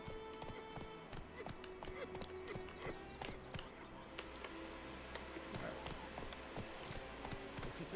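Horse hooves clip-clop steadily in The Witcher 3: Wild Hunt, a quick rhythmic trot set against a continuous game soundscape with scattered clicks and a faint tonal hum.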